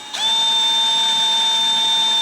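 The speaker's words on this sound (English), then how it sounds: "I'm gonna come in here now with my drill, and we're gonna carefully" A drill whines up to a steady high-pitched spin while boring matching holes into a wooden drum pattern, starting abruptly and then holding one even tone, close and alone.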